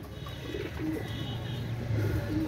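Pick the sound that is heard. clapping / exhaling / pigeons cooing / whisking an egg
pigeons cooing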